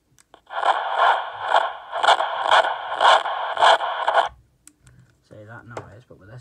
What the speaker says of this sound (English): it makes like a little crackling noise. Now that noise means that something is stuck in it